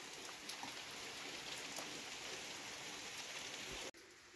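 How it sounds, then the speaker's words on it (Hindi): Heavy, continuous rain falls in a steady dense hiss, with droplets spattering on surfaces nearby; the sound cuts off abruptly near the end before resuming more faintly. "बारिश तो रुकने का नाम ही नहीं ले रही है, दिन से लगी हुई है बारिश।"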